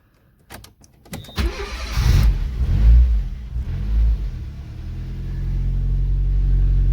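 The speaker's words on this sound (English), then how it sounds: "Gotta try and come off the throttle really slow and see if it'll idle." Fiat Cinquecento 899cc engine starting after a few clicks, then revving up loudly and easing off the throttle into a rough, rumbling near-idle, recorded close.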